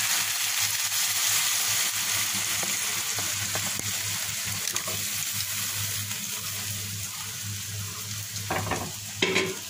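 Boiled bottle gourd goes into a stinging catfish curry frying in a pan, giving a steady, close sizzle with occasional stirring clatter and no talking.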